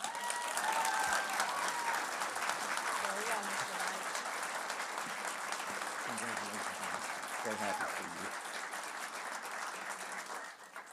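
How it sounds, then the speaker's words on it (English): An auditorium audience at a high school honors night applauds the honor graduate nominees, with dense, steady clapping that stays loud for the whole stretch and fades slightly near the end, and a few voices mixed in. "One more round of applause for all of our honor graduate nominees."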